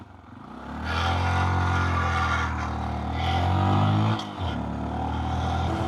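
A small 9 horsepower motorcycle is ridden along. Its engine drones steadily and close, rising in pitch as it revs, dipping briefly, then picking up again, with no voices.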